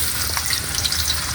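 Potatoes fry in a pan with a steady, dense sizzle and crackle that holds at an even level throughout, close and continuous with no voices over it.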